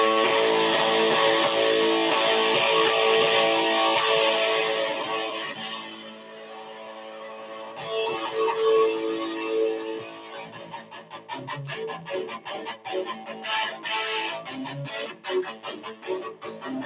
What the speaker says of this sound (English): That sounds like it's fizzing out. That's an amazing distortion.